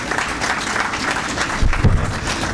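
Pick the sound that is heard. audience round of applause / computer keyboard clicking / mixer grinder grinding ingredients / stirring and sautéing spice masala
audience round of applause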